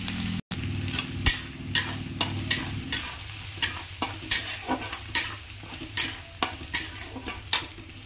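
Garlic and ginger paste fries in a pan with a soft, steady sizzle while a utensil scrapes and taps against the pan in a regular stirring rhythm, close up.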